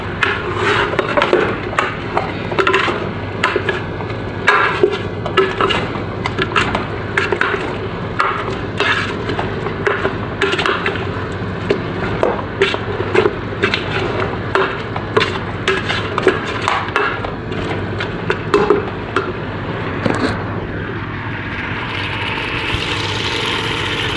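A spoon stirs food with added salt in a cooking pot, producing a steady run of close, rapid scraping and clinking strokes over a continuous background hum, easing off near the end.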